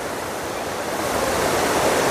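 Tutla Bhawani waterfall near a temple and suspension bridge, a loud steady broadband rush of falling water filling the whole clip without pause, no voices.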